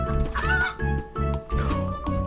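Chickens cluck repeatedly in the video game Turnip Boy Commits Tax Evasion, a rhythmic run of short game-sound bursts over steady background music.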